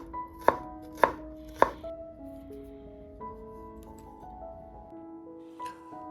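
Three sharp knife chops cut through garlic cloves on a cutting board, evenly spaced and close, followed by quieter tonal background music with no speech.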